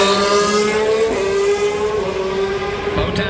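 A Formula 1 car on a qualifying lap at the Las Vegas Grand Prix, November 2023: a sustained high-pitched engine whine holding steady at full power, loud and close, with no talk over it.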